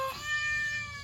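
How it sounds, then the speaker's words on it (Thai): A cat gives a single short meow, fairly close and clear, against a faint background hum. "แมว"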